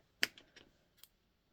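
Scissors trim fabric for tiny English paper pieced hexagons: a few faint, close snips, one crisp cut followed by two softer ones and a last light snip, in a quiet room.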